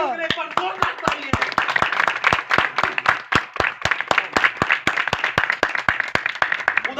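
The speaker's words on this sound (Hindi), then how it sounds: "एक बार जोरदार तालियां।" A church congregation claps loudly in a steady, even beat, keeping time throughout, with voices singing or talking underneath.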